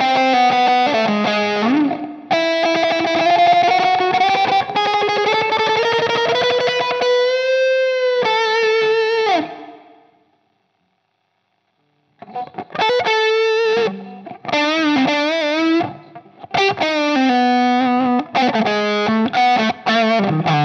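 Distorted electric guitar with subtle reverb shaped for a lead tone on an HX Stomp, playing sustained bending lead phrases that break off into a silent gap and then return as shorter choppy notes.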